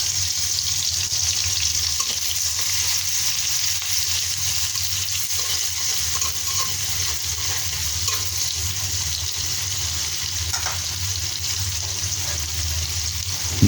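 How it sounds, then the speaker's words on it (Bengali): Onion and garlic frying in a pan, a continuous close, even sizzle with crackling hiss holding steady from start to finish. "পেঁয়াজ ও রসুন দিয়ে লাল লাল করে ভেজে নেব।"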